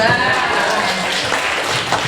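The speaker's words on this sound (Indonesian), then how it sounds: "tepuk tangan buat Pak Sus." Audience clapping at a school service-excellence workshop, a steady wash of applause from many hands held at an even level for the whole stretch, with some murmuring mixed in.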